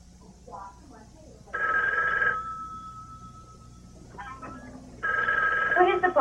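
A telephone bell rings in two bursts separated by a pause, fairly close, with quiet speech-like sounds between rings.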